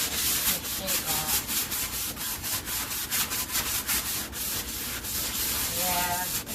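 Sandpaper meant for sheetrock, wrapped around a block, scrubs poured paint off a surface in a double-wide mobile home remodel, with steady back-and-forth rubbing strokes that stay close and continuous throughout.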